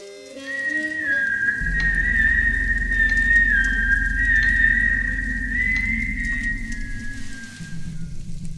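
A cheerful whistled melody rings out at night, one clear sustained tune that bends and wavers, set over a steady low hum in a quiet room.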